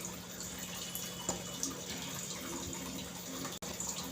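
Chhena (fresh curd cheese) is rinsed under clean running water, a steady, quiet gush from a tap with faint splashes and no talking.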